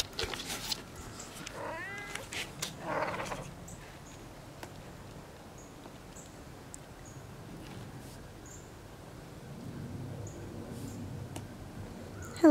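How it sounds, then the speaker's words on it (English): A cat meows a few times early on, fairly close, then things settle into quiet background ambience with faint chirps. "Oh, you hear her meowing?"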